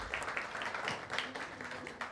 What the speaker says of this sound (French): Est-ce qu'on peut l'applaudir très très fort, s'il vous plaît?